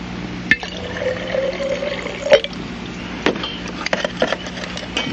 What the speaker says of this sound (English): Add a little water.